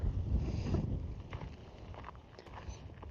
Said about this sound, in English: see how windy is.